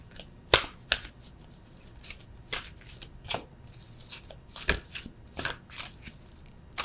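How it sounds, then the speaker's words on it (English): Tarot cards are shuffled and drawn by hand, with crisp riffling flicks and sharp snaps in an irregular rhythm, close and fairly quiet with no talking. "I'm going to just pull one of these beastly cards"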